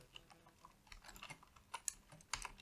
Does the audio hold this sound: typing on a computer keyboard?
yes